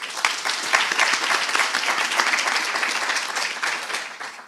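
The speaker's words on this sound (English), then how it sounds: "Please give yourself a round of applause" An audience at a medical school declaration ceremony applauds loudly and steadily, dense clapping from many hands that holds for a few seconds before tapering slightly at the end.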